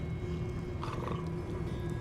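Low creature growl in the fantasy game Hogwarts Legacy, a rumbling, throaty sound held steady for a couple of seconds, moderately loud with no talking.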